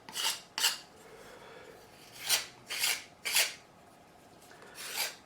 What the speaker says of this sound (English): I am going to slightly scrape the edges just to remove any excess glue.